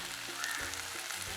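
Broad beans sauté in hot oil in a pan for a Jaffna-style curry, giving a steady close sizzle and crackle with a few soft stirring bumps.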